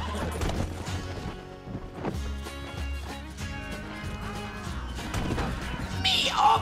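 Horse neighing and whinnying amid clip-clop hooves and a crash in the video game Red Dead Redemption 2, loud and close over game music, with a few sharp impacts near the end.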